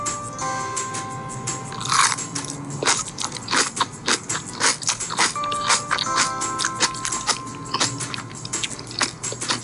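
Crunchy bites and chewing of freshly tossed young cabbage kimchi (eolgari geotjeori), close and loud, repeating crisp crunches throughout with no talk.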